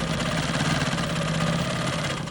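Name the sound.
quilting machine stitching in the ditch on quilt block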